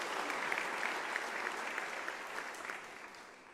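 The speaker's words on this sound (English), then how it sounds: "Can I request you to give them a round of applause?" Steady applause from an audience at an academic year opening ceremony, a dense wash of clapping that holds evenly for several seconds and slowly tapers, with no talking over it.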